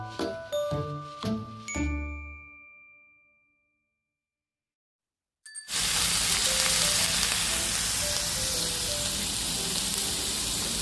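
A few bright metallic dings, a short silence, then a loud, steady hiss of pork sizzling on a tabletop grill outside a tent at a streamside campsite, close up.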